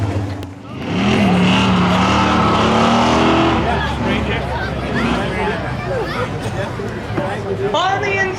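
Street legal drag race cars at a spectator drags event at Oxford, including a Mazda and Toyota Tundra, engines roaring as they accelerate past, loud and sustained with a commentator talking over them.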